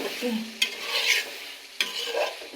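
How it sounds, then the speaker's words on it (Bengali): Country chicken bones coated in whole garam masala and spices fry in a pan, a continuous close sizzle broken by two sharp spoon scrapes against the metal. "এখন ভালোভাবে কষানো হতেছে"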